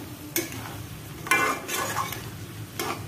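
A spoon stirs duck meat and spice masala in a pan, with scraping pulls and clinks over a low sizzle. Sharper bursts come near the start, the middle and the end, close up with no talk.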